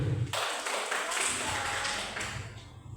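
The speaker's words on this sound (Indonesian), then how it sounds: "Berikan aplaus dulu" Applause for a speaker at a school talk, a short burst of clapping from a small audience that starts abruptly and fades within a few seconds.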